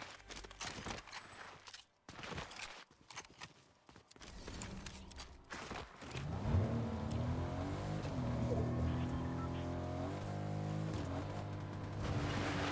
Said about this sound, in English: I believe I had a car on the backside of this house.